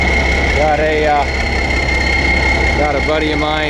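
Deutz-Allis 9190 4WD air-cooled diesel tractor idling at a dirt pit, a steady, close low rumble under a voice.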